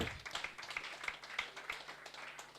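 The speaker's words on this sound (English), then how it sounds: "Another round of applause for him." Audience applause at a medical school 50th anniversary induction celebration, a small group clapping steadily at a moderate distance with a few distinct claps standing out, fairly soft overall and with no speech.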